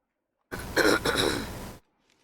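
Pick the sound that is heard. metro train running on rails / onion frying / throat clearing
throat clearing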